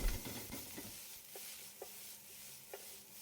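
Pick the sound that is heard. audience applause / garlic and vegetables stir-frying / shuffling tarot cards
garlic and vegetables stir-frying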